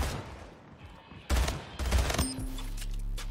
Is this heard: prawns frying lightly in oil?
no